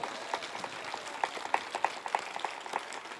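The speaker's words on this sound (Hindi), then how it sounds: "ताली बजा के प्रभु का धन्यवाद करो" A church congregation at a Bible convention in Jalandhar claps hands in thanks to the Lord, a light, uneven patter of fairly faint claps at a loose steady pace.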